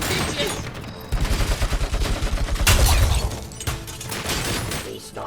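A machine gun roars in the video game RoboCop: Rogue City, loud and close, firing a rapid steady burst of even shots for several seconds, then a heavy impact and scattered debris follow, with a brief voice mixed in.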